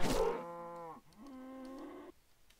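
Two long cow moos from a farm animal in a Minecraft-style game, close and clear, one after the other with a brief gap.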